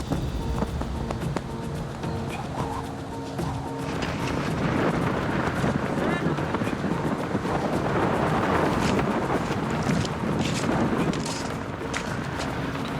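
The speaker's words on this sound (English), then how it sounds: "You can hear the roar of the wind and the gravel being brought towards you." Continuous loud roaring wind buffeting the microphone, with gusty rumbling and scattered rattling of wind-blown gravel, no voices.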